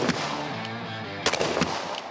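Gunshots are fired at a shooting range: a loud report at the start, then two more sharp cracks close together about a second later, all near and echoing.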